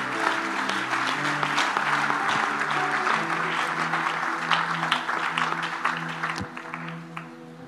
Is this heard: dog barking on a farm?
no